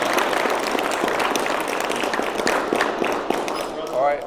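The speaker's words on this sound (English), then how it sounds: "Give a round of applause to this vessel of positive energy" An audience claps for performer Edwin Turner before his rap and spoken-word set, a steady round of applause mixed with voices and crowd noise.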